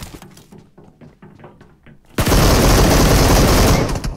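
Game gunfire in PUBG Mobile starts as a string of quieter, spaced shots, then erupts into a loud, dense roar of continuous fire that fills the rest of the moment.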